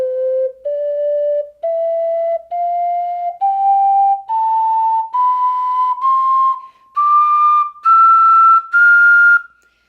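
A ceramic ocarina plays a slow rising scale of pure, breathy whistle-like notes, each held about a second with short gaps, clear and close, alone with no talking.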